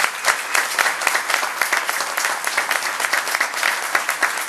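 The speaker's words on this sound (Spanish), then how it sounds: "me encantaría un fuerte aplauso para todos nosotros" Steady, sustained applause from a crowd at a political party assembly in Uruguay, dense clapping holding at an even level throughout with no voices rising above it.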